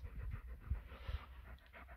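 Dog panting indoors on stairs near cats, quick breathy huffs close to the listener with a couple of louder thumping breaths, alone with no talk.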